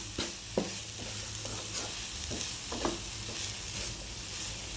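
Mixed spinach thoran cooks in a pan, and a spoon stirs it with a few soft scrapes and taps over a low, steady sizzle.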